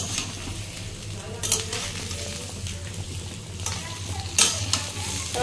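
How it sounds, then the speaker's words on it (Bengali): Mango pieces frying and being stirred in a pan on a gas stove, a steady close sizzle with occasional scraping strokes of a spoon against the pan. "আমটা আমার ভাজা হয়ে গেছে, একটু নাড়াচাড়ার জন্য এখন আমি দিয়ে দেবো চিনি।"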